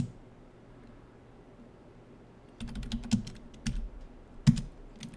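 Keys clatter on a computer keyboard as a short command is typed, a quiet pause first, then a burst of several crisp close keystrokes in an uneven rhythm, with one louder final press.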